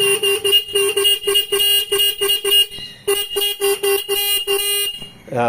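A rewired company-fitted horn on a two-wheeler, run on a somewhat low battery, honks loud and close in a rapid series of short repeated toots, with a brief pause midway before the bursts resume.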